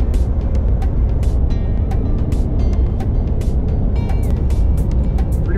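A car cruising at roughly 50 to 55 mph on the road toward Big Bend National Park produces a steady, loud drone of engine and tire noise throughout, with no talking.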